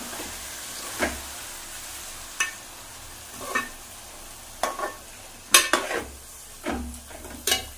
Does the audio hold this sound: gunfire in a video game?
no